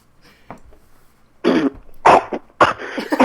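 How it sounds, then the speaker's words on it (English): Someone clears their throat several times, starting with a faint cough and building to three loud, gravelly rasps close to the microphone, with no speech. "I'll just clear my throat"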